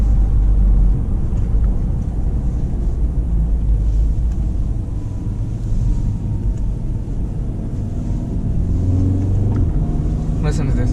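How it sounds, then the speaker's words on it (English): An Audi TTS sports car rumbles with a low engine note, and revs rise and fall as it downshifts near the end, steady and fairly close, with no talking. "you can hear the beautiful engine note, and the downshifts are awesome though"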